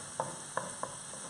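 Chorizo and tomato warming through in a pan for an Alaskan pollock dish, giving a faint, steady low sizzle broken by three soft, quick stirring scrapes.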